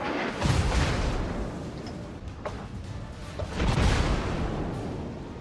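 The North Carolina battleship fires naval guns in World of Warships, giving two heavy, rumbling booms a few seconds apart, each trailing into a long low roar over continuous background noise.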